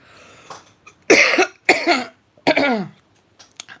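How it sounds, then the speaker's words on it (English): Three or four sharp, loud coughs close to the microphone, spaced a second or so apart, with quiet pauses between. "Excuse me, I need to cough."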